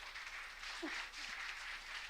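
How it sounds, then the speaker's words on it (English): Faint applause from a crowd, a steady soft wash of clapping heard at a distance. "let's give a round of applause."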